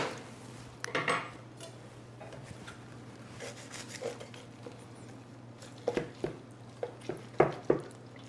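Roasted chicken and a vegetable medley lifted off a pan, with soft scraping under a steady low hum, then a run of sharper clinks and taps of utensils against the pan near the end.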